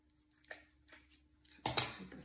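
Scissors snip through fabric for a homemade Christmas tree skirt in a few separate cuts, then a louder, denser burst of cutting at the end, close and with no talk.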